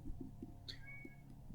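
A pet cat gives a short, quiet meow, a thin rising call heard faintly over steady background noise.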